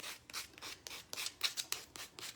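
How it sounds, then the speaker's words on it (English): Rough scratchy sanding strokes on wooden sticks, repeated in a quick uneven rhythm, close up with no talking. "I'm just sanding them."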